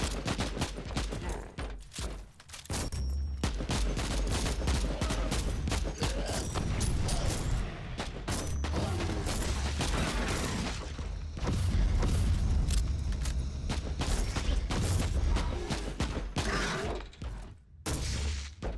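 Shotgun blasts in Warhammer 40K: Inquisitor - Martyr fire in rapid, relentless succession, loud and close, layered with impacts, mechanical clatter and constant battle noise, almost no gaps throughout.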